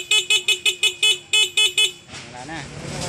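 A Honda TMX125 motorcycle horn beeps nine times in quick, even bursts, loud and close, then stops and gives way to a running engine and someone talking.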